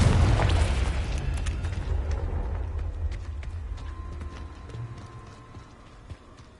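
A Confringo fire spell from the Hogwarts Legacy video game erupts as a loud, booming explosion right at the start, then rolls off into a long rumbling decay that fades over several seconds, with scattered crackles and debris-like clatter.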